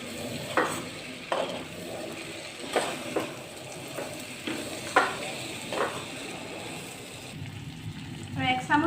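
Fish head curry being stirred in a pan as ghee melts into it, giving soft intermittent scraping and sizzling strokes at a steady, unhurried pace, close and fairly quiet.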